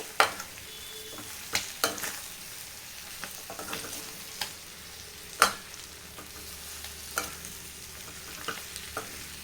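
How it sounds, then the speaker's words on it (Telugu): Pepper chicken fry with coriander and mint leaves being mixed in a pan, a soft sizzle under irregular spoon scrapes and sharp clinks against the metal. "ఇప్పుడు దీన్ని బాగా మిక్స్ చేసుకుంటే సరిపోతుంది"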